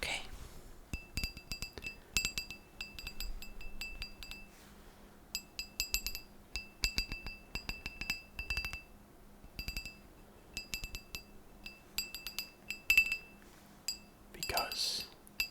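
Whiskey glass clinks repeatedly in quick bursts of bright ringing taps, close and crisp, with quiet pauses between groups.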